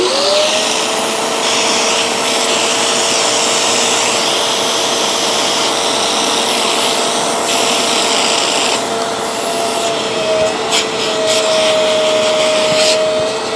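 Two portable carpet cleaners, a BISSELL Little Green and a Hoover, run together while their hoses are cleaned, giving a loud steady motor whine and suction roar that holds for the whole stretch with a slight pitch shift near the end.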